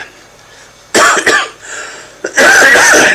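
Two bursts of harsh coughing, close and loud, separated by a brief quieter pause.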